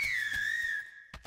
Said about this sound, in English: Did you hear that? Whistling!